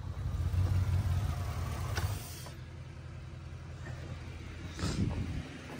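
A 2003 truck engine running rough with a misfire rumbles low and uneven nearby for about two seconds, then drops to a quieter, lumpy idle with a couple of brief bursts.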